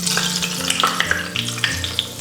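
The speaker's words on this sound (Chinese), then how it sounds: "五花肉我们煸成这种焦焦的" Pork belly sizzling and crackling in hot oil in a wok, a steady close fry with sharp spattering pops and occasional clinks of a spatula against the pan.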